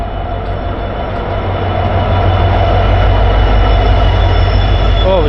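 A passenger train on the Korba–Yesvantpur route rolls past on the rails with a loud, close, steady rumble and a faint wheel squeal.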